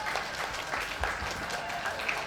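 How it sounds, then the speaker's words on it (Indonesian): Crowd applause at an Indonesian junior high school ceremony for graduating ninth graders, a steady patter of many hands with a faint murmur beneath. "Tepuk tangan terbaik untuk kita semua."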